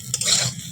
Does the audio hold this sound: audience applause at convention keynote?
no